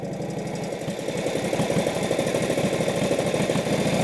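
A 1948 Indian motorcycle engine revs up steadily as the rider gives it gas and advances the timing, a loud, close, continuous rumbling pulse that builds slightly in strength.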